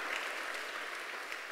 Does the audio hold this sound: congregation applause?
yes